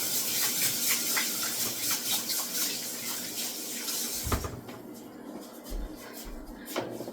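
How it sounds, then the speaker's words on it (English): Tap water runs steadily into a kitchen sink as hands are washed beneath it, a broad rushing wash with a few clatters, fading near the end into quieter handling knocks. "Let me wash my hands."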